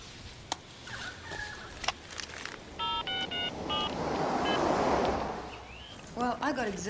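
A mobile phone rings with a few short bursts of electronic beeping tones, fairly close and moderately loud. Outdoor background noise and some bird-like chirps sit around it, and voices are heard briefly.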